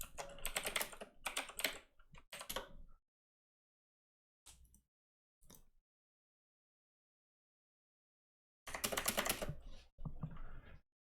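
Computer keyboard typing during a PC gaming stream: quick clusters of sharp, close key clicks in uneven bursts, separated by silent pauses, with a final dense flurry of rapid keystrokes.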